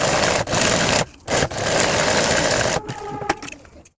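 Sewing machine stitching a fabric school bag after a zipper has been fitted, a close steady whir in bursts with short pauses between runs, ending in lighter handling clicks.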